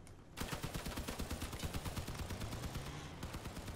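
Rapid bursts of gunfire from a turret on a vehicle build in the combat game Crossout, loud and sustained with dense repeated shots throughout, alone without talk.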